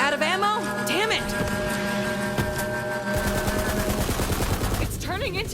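Gunfire in Borderlands 3 crackles as a rapid burst of automatic shots in the middle, set against a busy bed of voices and tonal game sound that runs throughout.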